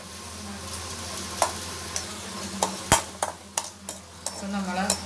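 Chopped ginger frying in oil in a pan for a Kerala-style ginger curry, cooked until brown and crisp: a continuous soft sizzle broken by a series of sharp scraping strokes as a spoon stirs it, close up and irregular.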